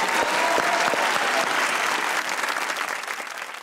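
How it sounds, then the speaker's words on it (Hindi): A studio audience at a comedy talk show claps loudly, with a few sharp hand claps on top of dense applause that fades a little toward the end. "इनके लिए भी तालियां होनी चाहिए।"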